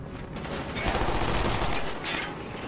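Reznov fires in Call of Duty: Black Ops, a dense burst of rapid gunfire rattling at moderate volume with a brief gap near the end, with no talking.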